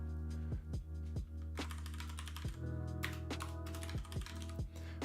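Rapid typing of code on a computer keyboard, a steady run of close, crisp key clicks with occasional heavier thunks, over a low constant hum and no talking.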